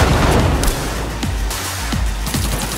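Loud, dense explosive booms and rapid bursts from a grenade explosion in the video game Cyberpunk 2077, with sustained rumbling chaos and repeated punchy hits throughout, no talking.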